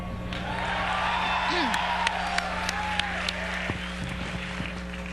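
Live audience at the BlizzCon Warcraft III grand final applauding and cheering, a sustained wash of clapping and crowd noise with scattered sharp claps and occasional voices mixed in.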